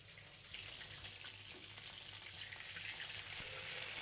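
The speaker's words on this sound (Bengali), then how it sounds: "মাছের মাথাগুলোর এক পিঠ ভাজা হয়ে গেছে, এবার উল্টে দেব, দিয়ে আর এক পিঠও ভেজে নেব।" Fish heads fry in hot oil in a pan, giving a dense, steady sizzle that grows louder after a moment and keeps up evenly, close by with no voices.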